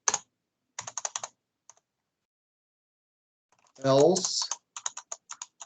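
Code is typed on a computer keyboard in short bursts of quick, close clicks, separated by pauses, with someone speaking briefly in the middle.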